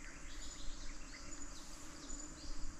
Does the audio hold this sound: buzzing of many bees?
yes